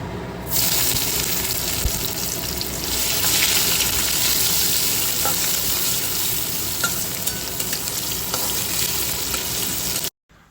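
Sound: vegetables and spices frying in oil

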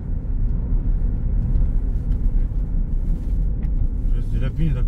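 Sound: BMW X6 diesel car driving

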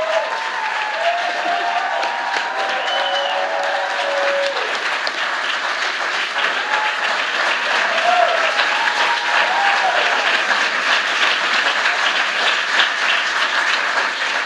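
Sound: audience applause

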